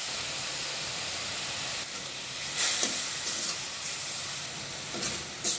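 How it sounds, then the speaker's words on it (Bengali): Beetroot fibre frying in a pan gives a steady, close hiss, swelling briefly in a few louder sizzling bursts, with no talk. "এখন এটাকে আমি সুন্দরভাবে ভাজা ভাজা করে নেব"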